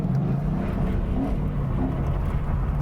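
A car drives figure eights in second gear, giving a loud, steady low engine drone with a faint rising and falling tone, heard close and continuous without any voices.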